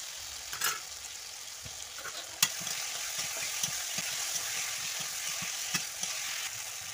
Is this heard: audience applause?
no